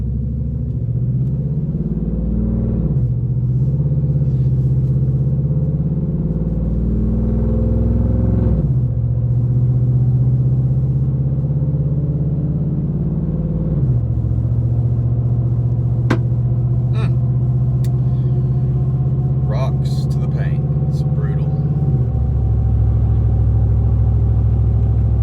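A car driving on a road, a steady close engine rumble inside the cabin with several gear shifts as the pitch rises and drops, plus light rattles and clicks toward the end.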